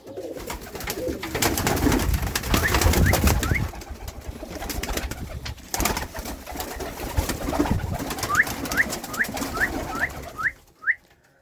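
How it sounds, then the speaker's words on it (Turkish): Azeri and Iranian pigeons coo in a loft, giving soft, repeated rolling calls over a steady background rustle, with a run of several coos near the end. "Beyaz güvercin orada"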